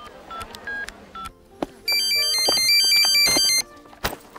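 Short keypad beeps sound first, then a bright electronic ringtone melody plays loudly for a couple of seconds before cutting off.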